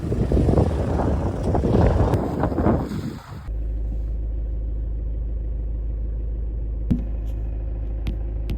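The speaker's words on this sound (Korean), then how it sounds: "바람이 너무 센 거, 너무 센 거 아니야?" Strong wind buffets loudly against the microphone in a roaring rush for the first few seconds, then gives way to a steady low rumble with a couple of faint knocks.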